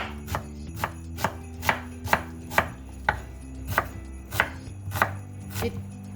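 Knife chopping onion near a stove, left-handed: about a dozen crisp, evenly spaced chops on a cutting board, close and clear with no talking.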